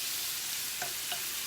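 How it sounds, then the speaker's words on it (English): Bacon frying in a pan gives a steady, soft hiss with a couple of faint scrapes partway through. "So bacon is cooking."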